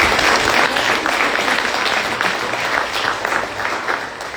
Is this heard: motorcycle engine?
no